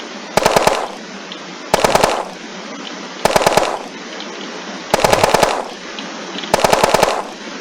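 Five evenly spaced short bursts of rapid automatic fire from an M2 Carbine in modded Unturned, each burst loud and close, separated by pauses of about a second and a half with no talk.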